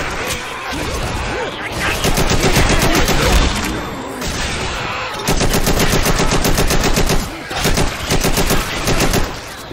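Assault rifle fire in the zombie game Left 4 Dead comes as loud, rapid automatic bursts, a dense chattering stream broken by brief pauses, with game sounds and voices mixed underneath.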